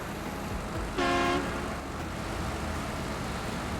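A truck horn in the SnowRunner video game in snowy Alaska gives one short, loud honk about a third of a second long, rising above a steady engine drone that carries on alone afterward.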